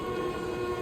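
Runaway train in a Spider-Man 2 video game, a steady loud rumble of rolling rail cars with a sustained horn-like tone over it, continuous throughout.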